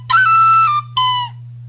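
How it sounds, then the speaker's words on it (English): Someone plays a whistle: two bright, sustained notes, the first long and the second shorter, loud and close over a constant low hum. "So I'm just playing my whistle."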